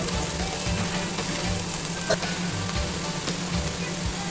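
Chopped onion and green chilli sauté in a pan with a continuous, even sizzle and faint crackling, close by and fairly loud, with occasional light stirring clicks.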